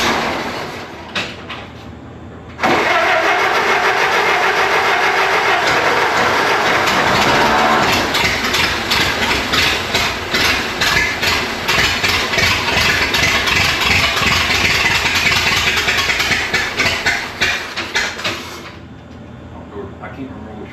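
A Ford Model T engine trying to run on moonshine starts up abruptly and runs roughly, a loud close chugging with uneven pulses that stops suddenly near the end, with some voices nearby.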